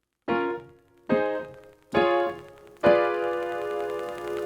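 Four inverted chords struck one after another on a keyboard, each ringing out with a melody note on top, the last held longest.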